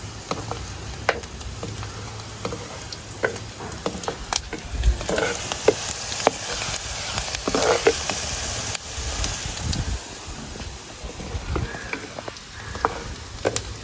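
Pumpkin pieces fry in a hot pan with steady sizzling and crackling, broken by scattered clinks and scrapes of a utensil, the bubbling fat holding at a moderate level throughout with no talk.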